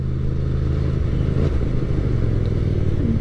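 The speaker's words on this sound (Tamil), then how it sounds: "வெறும் எக்ஸாஸ்ட்லேருந்து மட்டும்தான் சவுண்டு" A Hyosung GT250 motorcycle with a modified exhaust idles and runs close by, a loud, steady low burble with slight throttle variation and no speech.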